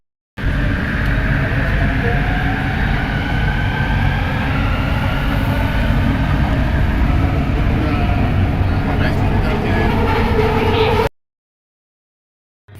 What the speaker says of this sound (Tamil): இன்னும் எங்கள் ட்ரெயின் 2 நிமிஷத்தில் வந்துடும்.